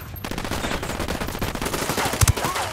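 Rapid, continuous automatic gunfire in Ghost Recon Wildlands, loud and close, with a sharp heavier burst near the end and little talk.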